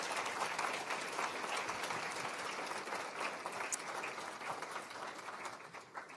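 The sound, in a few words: audience applause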